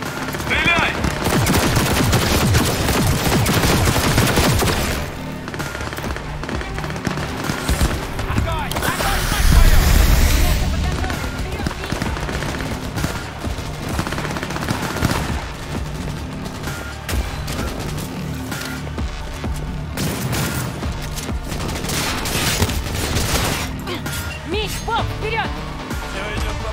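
Sustained automatic gunfire and rapid shooting bursts fill Cyberpunk 2077 combat, loud and dense throughout with a heavy boom midway, while voices shout over the shooting.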